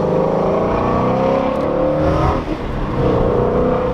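The 5.2-liter Voodoo V8 of a 2017 Ford Shelby GT350 revs hard and close, a rising, raspy engine note that briefly dips mid-way before climbing again, with no talking.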